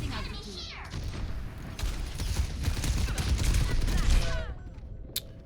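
Gunfire from the video game Overwatch, including a Widowmaker sniper rifle headshot amid dense loud rattling shots and crashes of a firefight, with game voice lines heard over the action.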